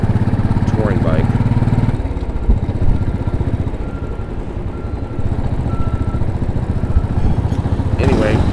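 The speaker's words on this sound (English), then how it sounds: "Here's a great BMW touring bike." A BMW touring motorcycle engine idles nearby with a steady, throbbing low rumble throughout, while someone talks over it.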